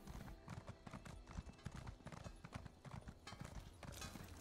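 A horse's hooves clip-clop in a steady trotting rhythm in the video game The Elder Scrolls Online, fairly faint, with occasional snorts and no talking.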